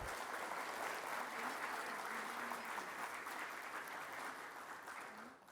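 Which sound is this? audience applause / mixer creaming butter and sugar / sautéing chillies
audience applause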